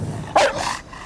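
A bloodhound gives a single loud, fairly close bark, a short sharp burst followed by a fading tail, heard outdoors in rural Mississippi.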